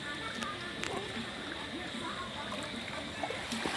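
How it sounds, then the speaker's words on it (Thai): Clear water flows over sand at a camping farm, a steady, soft rushing wash that runs throughout with faint voices and small splashes nearby. "น้ำไหลด้วย"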